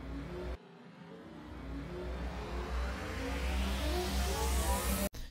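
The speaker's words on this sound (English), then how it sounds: "So I used a sweep in the second half of this 8 bars that's slowly pulling" A dubstep buildup of a slow noise sweep rising steadily in pitch over a sustained low drone and pulsing tones, growing brighter and louder before cutting off abruptly near the end.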